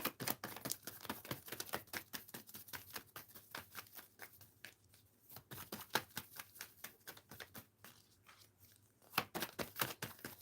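A deck of tarot cards is shuffled by hand in rapid, crisp riffling bursts, close and fairly quiet, repeating steadily with no voices.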